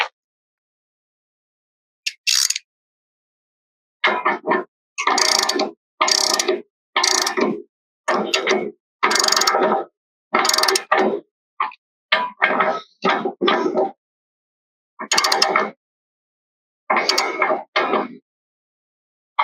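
A wrench working a fitting on an RV hot water tank, giving bursts of close metallic ratcheting clicks in short rhythmic runs separated by pauses, crisp and loud against near silence.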